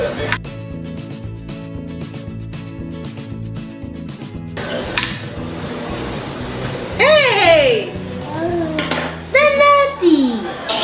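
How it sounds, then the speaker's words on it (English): A knife chops tomatoes on a kitchen surface for a rice mixture, with quick repeated knocks at first, then clinking dishes and a voice and chatter taking over. "I got to chop up the tomatoes to put in with the rice"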